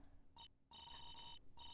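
Old-fashioned phone ringtone in a video game, a fairly faint bell-like electronic ring in short repeated bursts with brief gaps between them.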